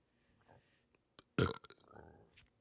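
A loud, gurgling burp erupts in a quiet room, followed by a softer rough tail and a few small noises around it.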